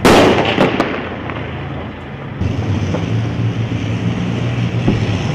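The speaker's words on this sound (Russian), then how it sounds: "Цели в глубине обороны боевиков уничтожает артиллерия." Artillery fire in northern Syria, striking targets deep in militant defensive positions, heard as a loud opening blast with a rolling rumble, followed by continuous heavy low roaring and engine-like droning.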